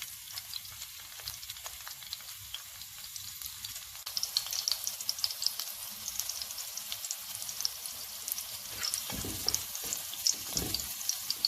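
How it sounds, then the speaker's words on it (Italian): Olive oil heating in a pan over a strong gas flame for a puttanesca sauce, sizzling and crackling steadily on its own, growing livelier after a few seconds, with a couple of louder pops and spatters near the end. "Ho messo la padella su un gas con la fiamma sostenuta e ora facciamo profumare l'olio"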